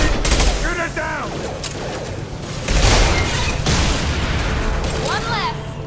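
A dense, close firefight in Mass Effect 2 Legendary Edition during Zaeed's mission, with continuous rattling weapon fire and booming impacts, while voices call out over the shooting.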